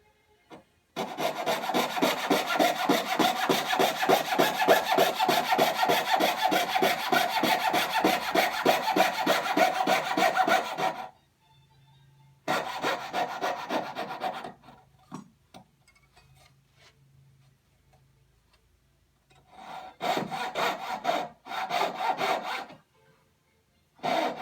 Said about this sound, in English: Turn the saw around. And then saw to the opposing corner.